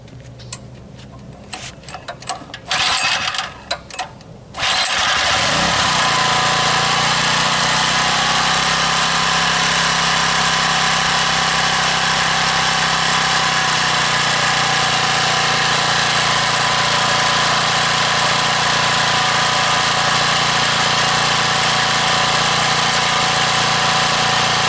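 A Powermate lawn edger's small engine, primed with starter fluid, catches after a few sharp pull-start bursts and then runs steadily at a loud, close idle with a constant buzzing drone and no talking.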